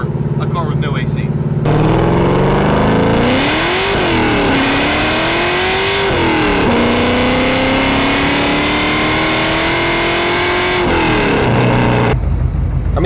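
A built LS V8 swapped into a BMW E36 roars close up while driving, revving and pulling through rising and falling gears in a sustained throaty drone, with a voice talking briefly at the start.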